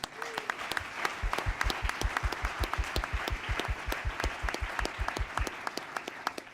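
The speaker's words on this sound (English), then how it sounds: "Can we get a round of applause, please, for ideastream?" A county address audience applauds, with rhythmic, evenly paced claps from nearby hands standing out over a steady wash of clapping from the wider crowd, continuing without voices.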